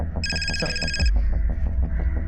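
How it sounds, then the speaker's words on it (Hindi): A telephone bell rings in a quick trilling burst for about a second, then stops, leaving a low rumbling room background. "सर, खबरी का फोन है।"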